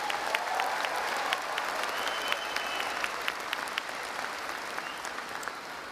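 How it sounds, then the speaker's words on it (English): A commencement crowd applauds graduates with a sustained round of clapping, filling the hall at moderate distance with scattered sharper claps standing out, and no talk over it. "Let's give them one more big round of applause."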